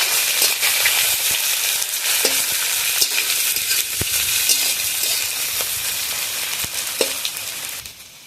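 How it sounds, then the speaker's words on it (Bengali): Onion and green chilli frying in a pan for a country chicken curry cooked on a clay stove, a loud continuous sizzle with repeated scraping stir strokes close by, no voices. "এবারে এর মধ্যে দিয়ে দেবো আমি পেঁয়াজ আর কাঁচা লঙ্কা দিয়ে ভালো করে পেঁয়াজটা হালকা করে ভেজে নেব।"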